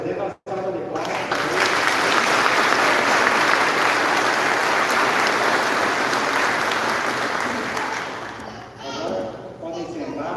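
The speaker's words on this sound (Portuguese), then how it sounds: "Uma salva de palmas" A church congregation at a novena for Saint Catherine of Alexandria applauds the invited communities, sustained clapping filling the hall before tapering off near the end as a few sounds and voices take over.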